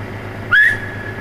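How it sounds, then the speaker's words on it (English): A man whistles one short, rising note, clear and close, over a steady low hum outdoors. "do your whistle"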